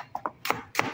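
Knife chopping an onion on a board in a home kitchen, three or four quick, crisp cuts in about a second, close and fairly quiet.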